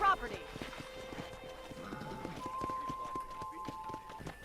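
Horse hooves clip-clopping in a steady riding rhythm in the Red Dead Redemption game, mixed with a neigh and in-game music, under a voice speaking.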